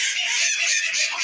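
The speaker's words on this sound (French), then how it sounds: "Une poule Pékin, perdrix maillot doré en nouvelle arrivante." A Pekin bantam hen, partridge-colored, newly arrived in a backyard flock of breed poultry, clucks and calls steadily and loudly throughout, with other chickens chattering close by and no voices.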